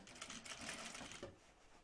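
A sewing machine stitches a seam on a bag, producing a short, faint, rapid run of stitching.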